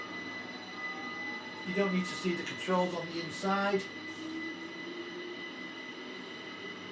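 A passenger train on the London to Brighton service in Train Sim World 5 hums and rumbles steadily throughout, with someone talking over it.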